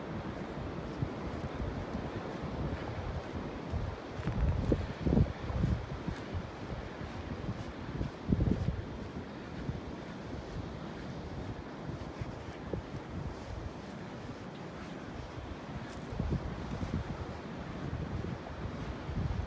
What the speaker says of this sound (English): that wind isn't warming up much, is it?